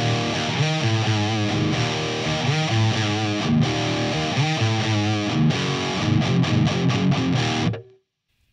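Distorted electric guitar riff with string bends and vibrato, played loud and close in repeated phrases with wavering pitched notes, ending in a run of quick choppy notes before cutting to silence.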